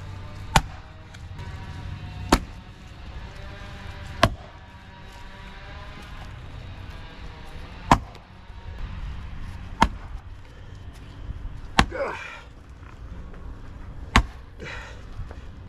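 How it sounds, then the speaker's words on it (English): Repeated attempts to split a stubborn, partly cut firewood log, heard as sharp chopping impacts about every two seconds, seven distinct hits with brief woody cracks, over steady outdoor background noise. "I really don't think we're gonna be able to split this one here."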